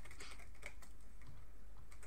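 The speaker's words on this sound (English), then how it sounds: "Sorry if you can hear the typing." Faint, rapid keyboard typing during a Minecraft play session. The clicks sit low under a steady background hum and run continuously without any voices.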